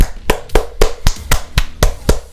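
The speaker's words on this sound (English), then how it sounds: "Round of applause for me." Eight sharp hand claps at a steady, fairly quick rhythm, close and loud, with no talking, celebrating a completed Geometry Dash level.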